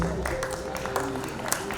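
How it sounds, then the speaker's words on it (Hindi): Stage audience applause for a performer named Suresh, a dense patter of clapping heard under a voice talking over it. "जोरदार तालियां सुरेश जी के लिए प्लीज।"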